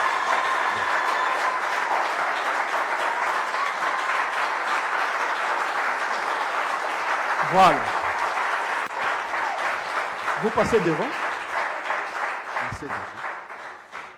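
An evangelical church congregation in Morocco applauds steadily for a new pastor, with a continuous wash of clapping through the whole stretch. A few brief words are spoken over it.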